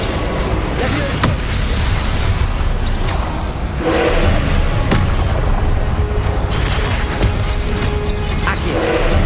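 A Levioso spell is cast in the video game Hogwarts Legacy amid steady loud game sound, with booming magical bursts and mechanical clatter.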